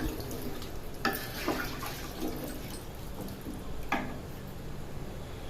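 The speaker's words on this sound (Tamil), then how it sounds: "தண்ணி சேர்த்துக்கலாம்." Measured water is poured into a pot of rice for country chicken dum biryani, a soft, continuous splashing and trickling with a few louder clinks and knocks of the vessel, close by and fairly quiet, with no talking.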